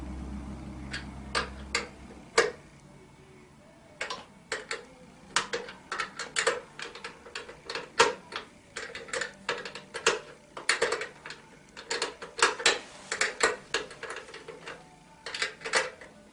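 A ratchet clicks in quick irregular bursts while tightening the chain adjuster nuts on an ATV, close and fairly quiet, with short pauses between runs of ticking.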